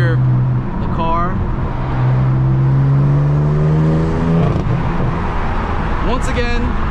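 BMW M4 fitted with an AWE track exhaust driving at night in its quietest efficient mode, giving a steady low engine drone with rising and falling tones as it accelerates and shifts, heard close up from the cabin.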